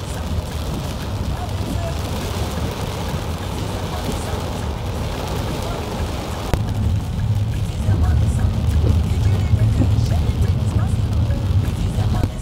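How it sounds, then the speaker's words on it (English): A heavy rain downpour makes a constant broadband hiss and patter that swells noticeably louder about halfway through, with no clear voices over it. "it's raining heavily here."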